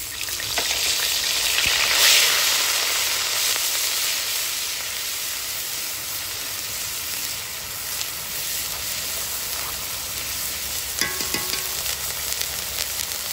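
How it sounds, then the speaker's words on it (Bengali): Onion paste fries in hot oil in a wok, giving a loud, continuous close sizzle and hiss with occasional stirring clicks. "তো পেঁয়াজ বাটা দিয়ে দিচ্ছি।"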